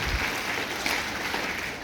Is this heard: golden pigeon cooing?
no